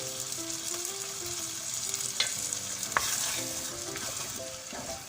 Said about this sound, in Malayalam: നിങ്ങൾക്ക് മൂപ്പ് കൂടണമെങ്കിൽ അതായത് കറക്റ്റ് ബ്രൗൺ കളറാകണമെങ്കിൽ അല്പം കൂടി തേങ്ങയൊന്ന് മൂപ്പിക്കണം